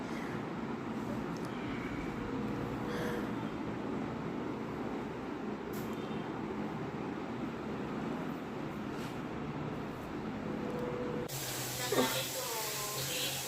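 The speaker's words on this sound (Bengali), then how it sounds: "দেখো মাংসের জন্য পেঁয়াজ টমেটো ভাজা হচ্ছে" Onions and tomatoes frying for meat curry, a loud, steady hissing sizzle throughout, with a brief clatter and a short burst of voice near the end.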